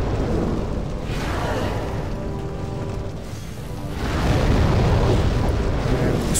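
In the PS3 game Demon's Souls, a deep rumbling explosion roars and swells, fading a little before surging again into a second heavy blast that sustains to the end with no talk.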